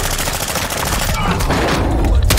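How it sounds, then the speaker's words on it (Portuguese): Rapid bursts of gunfire in Call of Duty: Warzone 2.0 crackle loudly and continuously, dense and overlapping, with a brief louder blast near the end. "Ai, meu Deus, tomei tiro"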